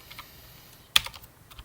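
A few soft computer keyboard keystrokes are heard close up, with one clearer clack near the middle, in a quiet room.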